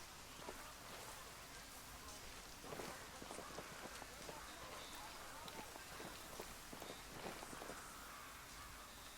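Steady hiss of rain with scattered patter and soft taps throughout, fairly quiet and constant, in the video game Tom Clancy's Ghost Recon Wildlands.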